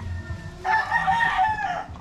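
A backyard gamefowl rooster crows once, close and loud, with a single drawn-out call over low farmyard background noise.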